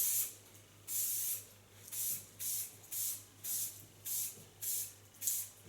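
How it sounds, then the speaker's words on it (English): Lanza ultra soft hairspray goes out in about eight short, airy hissing bursts at a regular pace, each a second or less, close by in a quiet room. "Then I go for ultra soft hairspray."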